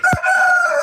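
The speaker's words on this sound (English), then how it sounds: "Someone's got a rooster." A rooster crows once, a loud, drawn-out call that holds steady for nearly a second, close by, with no talking over it.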